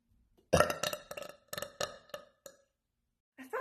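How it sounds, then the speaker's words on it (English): A ginormous burp forced out after gulping air, loud and close, breaking into a rapid string of croaky pulses for about two seconds before a short sound at the very end. "I can inhale air and release it out in a ginormous burp."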